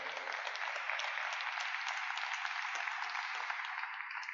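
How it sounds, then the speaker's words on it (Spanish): Congregation applause during a church sermon, a steady, moderately distant clatter of many hands clapping that continues evenly for a few seconds. "Demos un aplauso al Señor,"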